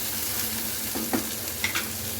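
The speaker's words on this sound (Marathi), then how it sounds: "मस्त कांदा असा परतवायचा आहे, गोल्डन कलर येईपर्यंत" Chopped onion sautéing in a pan until golden, a soft steady sizzle under occasional light clinks and stirring scrapes, close and fairly quiet.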